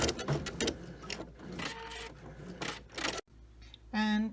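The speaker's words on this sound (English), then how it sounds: "I simply stopped the sewing machine and stopped the embroidery actually" Muffled talking gives way to the rapid, rhythmic whirring of a PFAFF creative icon embroidery sewing machine stitching briefly near the end.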